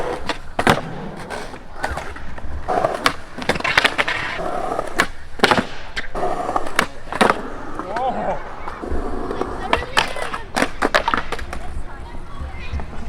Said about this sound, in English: I think I'm gonna go for the switch flip instead.